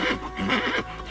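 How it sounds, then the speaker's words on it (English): A horse neighs in the video game The Witcher 3, a short whinny with a wavering pitch, heard fairly close and alone. "Geralt can always count on his horse, Roach, to help him in his travels."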